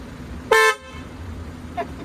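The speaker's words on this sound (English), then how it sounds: "honk your horn for me" A single short car horn honk, loud and close, followed by a faint brief second toot.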